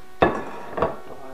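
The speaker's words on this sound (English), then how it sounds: "here's the sound of me cleaning dishes" Two sharp clatters of dishes knocking together in a kitchen sink, about half a second apart, close by in a quiet room.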